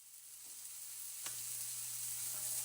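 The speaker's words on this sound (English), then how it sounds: "I'm just frying it, stir frying it around pretty much now." Cabbage with carrots and eggs sizzles in a pan while being stir fried, a steady close hiss with a few faint scrapes and taps, no voices.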